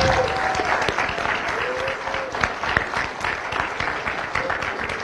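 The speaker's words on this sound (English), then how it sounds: "Let's have one more round of applause for the winners and honorable mentions." Audience applause after a youth poetry contest awards ceremony at a library event, steady dense clapping filling the room for several seconds at moderate loudness.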